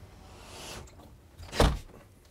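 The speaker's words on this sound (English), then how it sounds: "as we get everyone in and shut the door" A door in a soundproofed room shuts with a single soft, dull thump in an otherwise quiet space.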